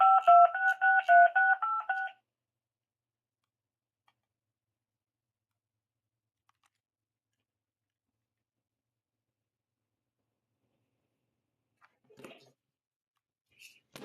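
A phone system plays a rapid run of DTMF dialing tones, a couple of seconds of evenly spaced beeps, followed by long near-silence and a few faint clicks and handling noises.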